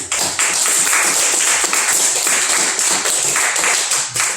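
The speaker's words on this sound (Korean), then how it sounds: "우리 박수 한번 하겠습니다" A church congregation applauds together indoors, steady dense clapping from many hands sustained for several seconds without a break.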